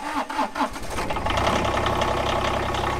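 A reel lawn mower's engine catches after a few uneven pulls, then settles into a steady, busy running drone close by.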